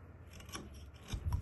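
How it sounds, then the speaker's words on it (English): A carving tool cuts a V-shaped groove across a wooden hiking stick, giving short, close scraping strokes, with the firmest cuts coming near the end. "I cut another kind of groove in with a V cut"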